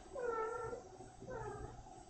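A male cat meows twice close by, two drawn-out cries about a second apart, fairly soft.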